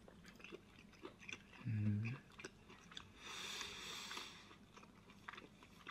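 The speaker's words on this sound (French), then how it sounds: "Goûtons maintenant la viande." Close, quiet chewing of tender beef from a homemade beef bourguignon, with a soft low bite early on and moist mouth sounds throughout.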